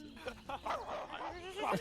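Dogs bark and yip in short bursts close by, with a whiny edge, mixed with people talking.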